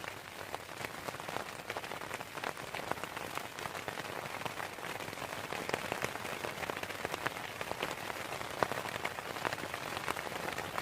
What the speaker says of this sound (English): 2:30 in the morning, and finally it starts to rain.